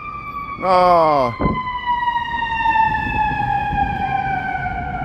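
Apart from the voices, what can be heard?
fire truck sirens in Chicago street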